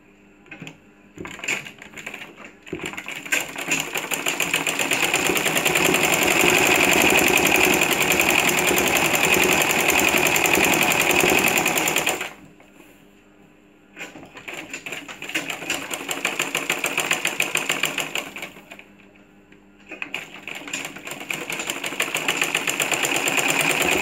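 Sewing machine running in long continuous bursts while stitching the neckline of a kameez, loud and steady with two short pauses between runs, no talk.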